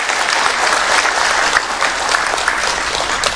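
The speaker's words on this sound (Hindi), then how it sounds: "इनका ताली बजा के स्वागत कीजिए आप।" Sustained, dense applause from a large public audience welcoming minister Meena Singh at a political gathering, loud and steady throughout with no voices on top.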